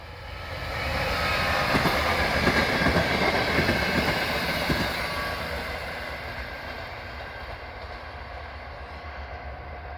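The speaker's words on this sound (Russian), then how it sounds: "Да, едет рельсовый автобус." An old rail bus passes on the VT line between Vammelsuu and Vanhasaha, a rumbling rattle with clicking wheels that swells as it nears, peaks, then fades steadily into the distance.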